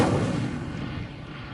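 Incendio fire spell cast in the video game Hogwarts Legacy, a loud, dense roaring burst of flame that starts strong and slowly tapers, with no voices over it.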